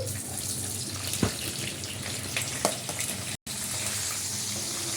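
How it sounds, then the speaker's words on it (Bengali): Paneer pieces frying lightly in hot white oil in a pan after a cumin tempering, giving a steady broadband hiss with a few sharper pops and one brief dropout, close and continuous with no talk. "এই যে পনিরগুলো দিয়ে দিচ্ছি, হালকা করে ভেজে নেব।"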